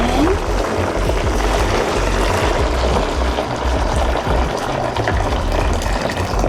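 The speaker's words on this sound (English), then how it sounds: "I'm gonna get my pot of hot water here, and I'm just gonna pour it in." Hot water pours from a pot into a bucket in one loud, steady, continuous rush that lasts the whole stretch and is never broken by talk.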